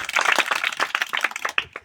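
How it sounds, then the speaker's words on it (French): A small crowd claps at a well inauguration and awareness ceremony at a public school, a brief patter of uneven claps fading out within two seconds. "Encore un applaudissement pour eux."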